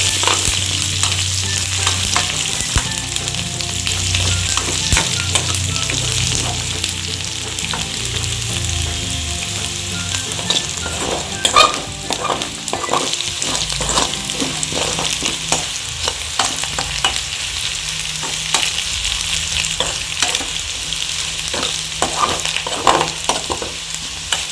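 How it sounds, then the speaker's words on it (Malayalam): Shrimp, crushed bird's eye chillies and curry leaves fry in hot oil for a homemade prawn pickle, giving a dense, continuous sizzle with scraping stir strokes throughout and no talking. "എല്ലാം കൂടെ ഇട്ട് ആ എണ്ണയിൽ തന്നെ ഇട്ട് നന്നായി വറുത്ത്"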